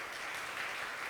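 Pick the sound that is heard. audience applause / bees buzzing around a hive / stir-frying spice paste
audience applause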